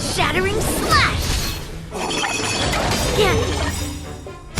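A sword slash shatters rock with a loud crash and whooshing debris in the Honkai: Star Rail video game, the impact ringing out over dramatic voices and continuous music-like sound.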